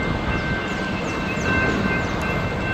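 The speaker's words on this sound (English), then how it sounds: "There's a train coming." A train rumbles steadily through a rail work zone amid high winds, a continuous loud wash of rail and wind noise with a faint high tone running through it.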